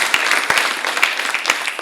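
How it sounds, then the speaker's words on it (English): Loud, dense applause from a conference audience at an India policy forum, with a few sharper individual claps standing out over the steady roar. "I just want to give you a big round of applause."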